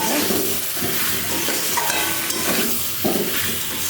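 Spiced paste and potatoes stir-fry in hot oil, giving a loud close sizzle broken by repeated scraping and knocking of a spatula against the pan, with no talking.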